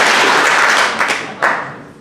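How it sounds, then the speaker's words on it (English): A group of students at a tribe night gathering clapping in unison, a loud roar of claps fading out, followed by two quick, sharp group claps. "Listen, clap twice."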